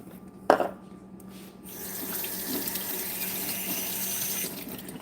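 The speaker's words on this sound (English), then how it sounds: "Now we want the water to stick to this, to the blueberries, so rinse them off." Tap water runs steadily into a sink as blueberries are rinsed, starting with a sharp knock and building to a constant close splashing rush with no talking.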